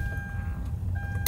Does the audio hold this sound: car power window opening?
yes